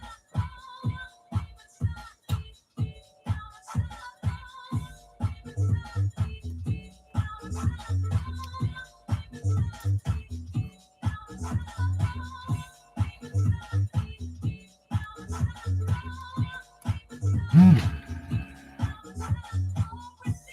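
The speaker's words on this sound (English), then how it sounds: "That is the sound of Dave using the desoldering tool, attacking that board." A desoldering tool works on a circuit board of prototype keyboard switches, giving a run of short, sharp clicks and sucking pops in an irregular rhythm, close and fairly quiet, with faint background hum.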